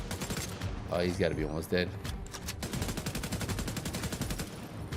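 Rapid assault rifle gunfire from The Division 2, shooting at armored enemies: dense automatic bursts sounding steadily through the clip, loud and close, with a voice talking over the shooting at the start.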